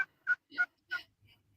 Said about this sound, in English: I think that is my turkey.